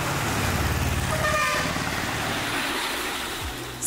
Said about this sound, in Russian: На улице шумят мопеды, тук-туки и большие разукрашенные автобусы.